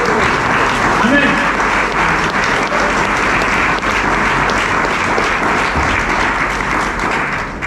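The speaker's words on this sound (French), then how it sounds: "Est-ce que tu peux acclamer, gars?" A church congregation applauds and cheers in a steady, dense roar of clapping that fills the room without a break, with voices mixed in throughout.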